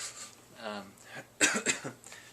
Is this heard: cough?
yes